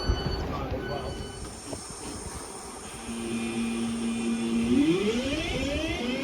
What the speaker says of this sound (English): there goes the slightly delayed 1308 Northern service to Manchester Piccadilly via Stockport from Crewe.